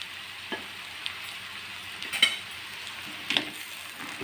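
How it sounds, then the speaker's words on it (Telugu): Gongura leaves are stirred into egg pulao frying in a pan, giving a steady close sizzle with a few scraping spoon strokes and light clinks at irregular intervals, no voices. "ఇప్పుడు మనం గోంగూర ఉంది కదండి, అది వేసేసుకొని కలుపుకోండి."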